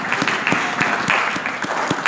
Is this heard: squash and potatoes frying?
no